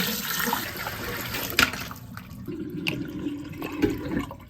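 Water is poured out of a container holding a VANSUNY rugged flash drive after a waterproof test: a steady, close splashing gush with a sharp spill near the middle, no talking.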